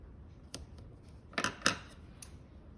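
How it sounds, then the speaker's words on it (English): Wonder tape being pulled and pressed onto the back of a paper card: quiet crackles, then a few sharp, close ticks and snaps in quick succession against a soft background. "I'm just going to put a little bit of tape on the back."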